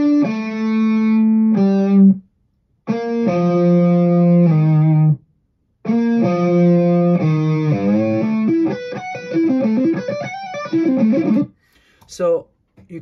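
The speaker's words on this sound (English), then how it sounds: "So I'll play you the track in solo with no reverb, no delay, so you can hear the sound of the amp basically." Solo electric guitar track played through an amp with no reverb or delay in a lead tone style, a sustained overdriven melodic line of held notes and legato runs with clean abrupt stops between phrases.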